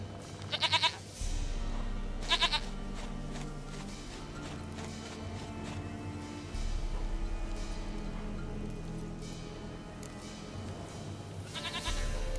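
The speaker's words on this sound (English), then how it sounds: "Goat of mine, dearest, sweetest goat." Goat bleats in The Witcher 3 game, with a few short wavering cries near the start, around 2.5 s and at the end, over a steady in-game ambient bed and background music.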